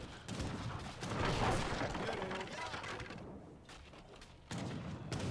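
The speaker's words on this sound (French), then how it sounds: "J'aime beaucoup ces canons-là." Cannon fire in Age of Empires 3 during a campaign battle, with rolling booms and bursts layered into a dense, continuous barrage of game combat noise.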